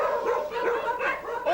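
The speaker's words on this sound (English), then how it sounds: "All these dogs here," Several dogs bark and yip in an outdoor yard in Jamaica, a continuous run of overlapping barks at moderate distance, fairly loud, with no speech.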